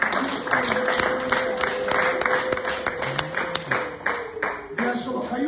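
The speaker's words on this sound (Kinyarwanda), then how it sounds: "Mureke tuyihe amashyi." A church congregation breaks into applause during a pastor's testimony, a steady patter of clapping running throughout with a voice speaking over it.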